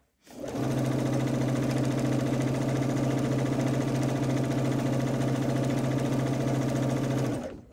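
A sewing machine stitches a jelly roll quilt in one long continuous run, a steady, loud mechanical hum with a rapid needle rhythm that starts abruptly and stops cleanly after about seven seconds.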